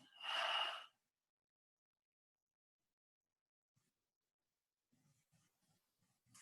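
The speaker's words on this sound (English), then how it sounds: "You might take some breaths, just intentional breaths to exhale out through the mouth." A single deep breath is pushed out through the mouth during a guided yoga flow session, loud and close for under a second, then near silence with a few faint soft rustles.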